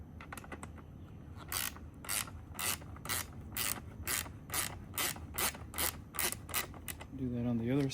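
Ratchet wrench on a kids bike wheel nut, a close run of sharp rapid clicking bursts in steady strokes, ending with a brief muffled rub.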